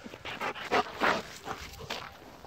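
A dog pants and whimpers up close in short, uneven breaths and whines, with faint shuffling in the background.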